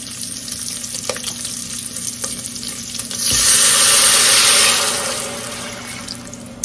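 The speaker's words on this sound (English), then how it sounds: "So now what I'm going to do, I'm going to add a little bit of water" Water poured into a hot cooking pot bursts into loud hissing sizzle that swells for a couple of seconds, then gradually settles back into a low simmering bubble.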